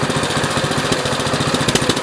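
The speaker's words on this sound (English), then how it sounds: "You can rev it up and stuff, but it'll die out." A 1969 Gravely 432 tractor engine runs steadily after a rebuild, with a loud, close, rapid chugging idle and even mechanical knocking. The engine is suspected of a fuel pump problem.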